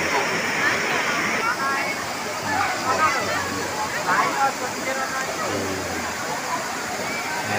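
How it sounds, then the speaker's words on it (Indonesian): Jumog waterfall in Karanganyar, Central Java, rushes with a steady broadband roar while a group of visitors chatters and calls out over it. "Air terjun."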